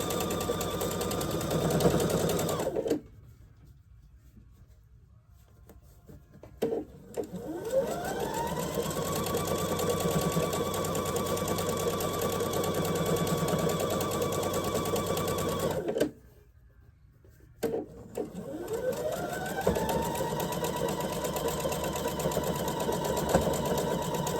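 A sewing machine stitches a quilt block in two long steady runs, each starting with a rising whir and humming at a constant pace, separated by brief pauses.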